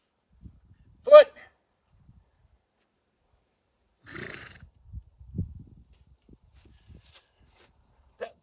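A donkey making a couple of short, sharp vocal bursts, separated by quiet gaps with faint shuffling and low snorting noises, heard fairly close in a calm outdoor setting.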